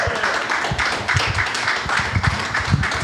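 Loud audience applause and scattered whoops fill a comedy show crowd for about three seconds, a dense steady wash of clapping with no talk over it.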